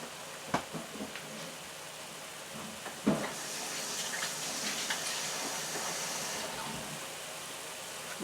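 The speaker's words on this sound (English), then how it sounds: "I'm putting about an ounce of water in" About an ounce of water pours into a cooking pan, producing a steady stream of hissy, splashing sound lasting several seconds after a couple of soft clunks, without any talking.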